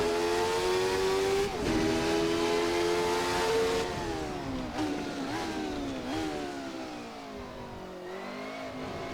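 A Jordan 191 Formula One car screams in a racing simulator, its high engine note climbing and dropping sharply through quick gear shifts while braking into a tight hairpin, loud and close throughout.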